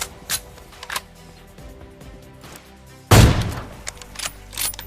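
A single loud gunfire burst rings out at close range in the PUBG Mobile video game, with a sharp onset and a short rumbling tail, after a few fainter clicks and thumps.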